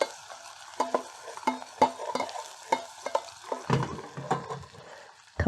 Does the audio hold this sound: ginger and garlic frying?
yes